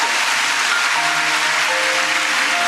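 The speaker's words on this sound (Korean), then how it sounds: "들어갈 때 박수로 뜨겁게." A church congregation at a Sunday baptism and confirmation service applauds warmly, a loud continuous wash of many hands clapping together, with faint sustained organ or keyboard tones underneath.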